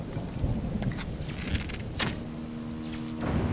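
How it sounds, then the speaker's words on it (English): A stormy scene in Zelda: Tears of the Kingdom, with rain and rumbling thunder underneath and a few sharp crackling bursts from lightning strikes, ending in a low hum. "that's getting hit by lightning and then that'll trigger"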